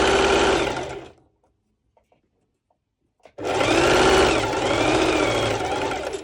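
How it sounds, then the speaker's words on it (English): A sewing machine set to its longest stitch, sewing a garment, running in a loud steady whir, stopping for about two seconds of near silence, then resuming steadily, no voices. "So you see the setting on my sew machine is on the longest stitch, and I just sew through it"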